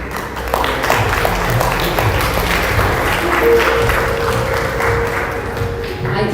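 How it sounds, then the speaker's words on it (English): A gathering at a Sikh event breaks into another round of applause, a broad, sustained wash of clapping from many people, with voices mixed in underneath. "Another round of applause"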